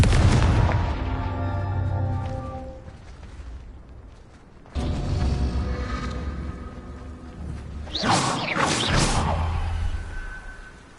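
Spell explosions from Confringo and Bombarda in the video game Hogwarts Legacy: heavy booming blasts and whooshes in quick succession, with a loud burst near the start, another around the middle, and a bright crackling blast toward the end.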